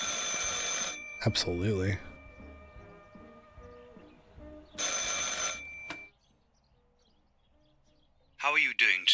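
Old-style telephone bell ringing in the video game Martha is Dead, two loud bursts of ringing separated by a pause, with a voice speaking briefly between them and again at the end.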